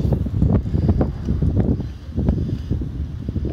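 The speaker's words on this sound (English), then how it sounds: "The 40-mile-an-hour winds don't help" Strong gusts of around 40 mph buffeting an outdoor microphone, a loud, uneven low rumble that pulses and surges continuously throughout, with no talking.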